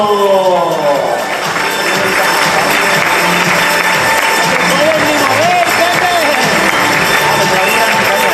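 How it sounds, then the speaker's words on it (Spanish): An audience at a comic convention costume contest applauds and cheers loudly for a contestant, sustained clapping and shouts filling the hall while voices carry over the crowd. "Adelante, Edu C3PO, un aplauso."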